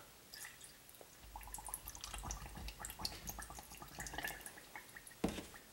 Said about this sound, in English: add milk.